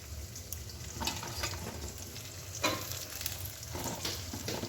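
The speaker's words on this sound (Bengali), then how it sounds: "পেঁয়াজগুলো নরম হয়ে গেছে, ক্যাপসিকামগুলো দিয়ে একটু নেড়ে দেবো।" Onions and capsicum frying quietly in a pan, a low continuous sizzle broken by a few scraping stirs of a spatula, faint and close with no talking.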